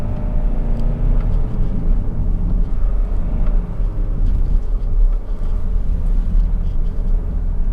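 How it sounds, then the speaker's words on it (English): A 2022 Kia Carnival's diesel engine climbs Genting hill in third gear, a steady low rumble and road drone that holds constant and close throughout, with no talk over it. "the engine is taking all this without any problem. We are in third gear"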